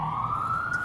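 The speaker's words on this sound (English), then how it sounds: "Sound like an ambulance going by." An ambulance siren sounds from outside during a camping sleeping-bag test, a steady wailing tone heard from a distance and fairly faint, alone without talk.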